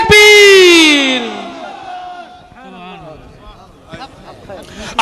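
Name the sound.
crowd shouting in response to takbir call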